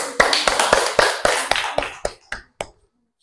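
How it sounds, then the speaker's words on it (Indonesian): A small group claps in a slow, steady beat of distinct hand strikes, the claps thinning to a few isolated ones before stopping. "Tepuk tangan."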